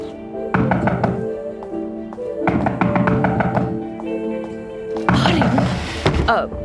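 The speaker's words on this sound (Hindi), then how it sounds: "दरवाजा बज रहा है, मैं जाकर देखती हूँ।" Series of rapid knocks on a door in an indoor drama scene, coming in three loud bursts of repeated raps, the last one denser and louder.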